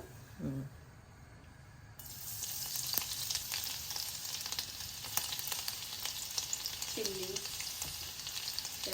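Garlic sizzling in a hot pan as the base for chicken momos, a loud, steady frying hiss that bursts in after a short quiet start, with brief murmurs of a voice at the edges.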